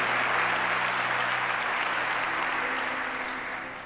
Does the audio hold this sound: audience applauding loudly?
yes